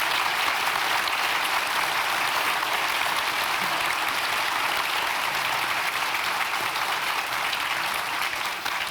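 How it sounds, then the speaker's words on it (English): Sustained, even applause from a conference audience for a panel of speakers, dense and steady for about nine seconds before easing slightly at the end. "can we please give a big, big round of applause to all of our panellists"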